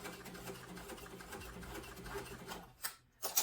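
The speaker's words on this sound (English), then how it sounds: "just basting the edges" Sewing machine basting the edges of a sling bag, a quiet continuous mechanical hum that drops out near the end, followed by a few soft handling clicks.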